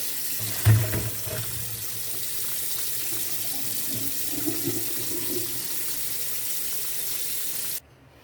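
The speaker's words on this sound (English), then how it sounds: "I'm going to strain this with some cold water." Cold water gushes from a tap into a sink over boiled potatoes being strained, a steady rushing splash after a brief clunk, cutting off abruptly at the end.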